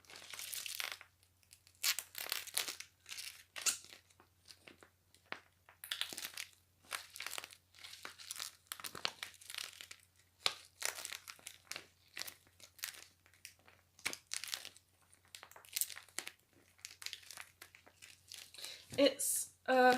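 A durable plastic sensory bag filled with Orbeez being squished by hand, giving repeated soft crinkling and squelching bursts in an irregular rhythm, close and fairly quiet.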